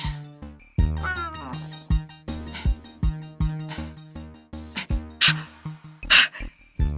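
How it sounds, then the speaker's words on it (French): A black cat meows several times in a cellar amid busy cartoon music and effects, the cries fairly close and mixed into layered sound. "Dans la cave, il y a Nanou le chat noir de la sorcière qui garde la boîte"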